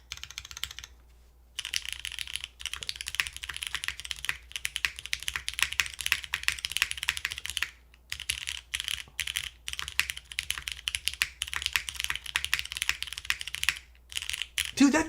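Continuous clacky keystrokes from a newly built KC NO 1 1800 mechanical keyboard, typed in quick bursts with brief pauses, close and crisp.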